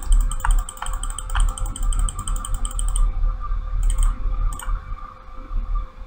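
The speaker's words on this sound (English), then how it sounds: "You can hear me clicking." A computer mouse is clicked repeatedly while trying to fire in a 2D shooter game, giving a quick series of sharp, close clicks in an irregular rhythm over a low steady hum.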